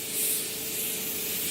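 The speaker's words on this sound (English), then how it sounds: "I'm gonna use my Morphe Continuous Mist Setting Spray just to top" A continuous hissing mist from a Morphe Continuous Mist setting spray bottle, close and steady for a second or two.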